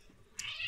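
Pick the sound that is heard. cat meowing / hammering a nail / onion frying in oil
cat meowing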